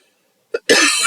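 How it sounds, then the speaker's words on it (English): A single close, sharp cough, a short catch followed by a harsher burst, after a moment of silence. "Hold on, I have to cough."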